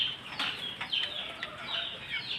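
Young chicks peep in a continuous flurry of high, thin chirps while being fed a feed mixed with dog food, close by and moderately quiet.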